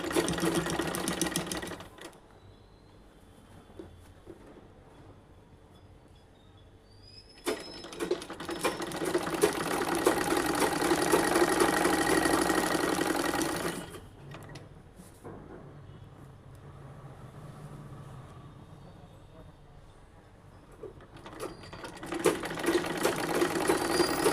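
An electric sewing machine stitches the side seam of an umbrella dress with a needle that has lost its sharpness. It runs loud and steady in bursts with short quiet pauses between them, and no one speaks.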